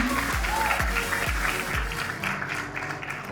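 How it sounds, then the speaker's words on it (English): An audience at a student felicitation ceremony gives a steady round of applause, dense clapping lasting a few seconds, with low thumps at the start and faint crowd murmur beneath. "a big round of applause for all of you"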